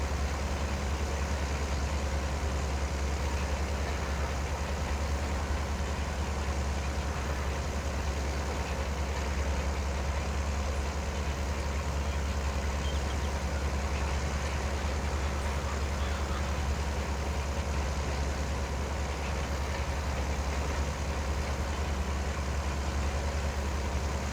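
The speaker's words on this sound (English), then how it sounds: "I'm actually driving a green tractor" A green tractor engine idles in Farming Simulator 22, a steady, loud, low-pitched rumble with broadband mechanical noise that holds unchanged and uninterrupted throughout.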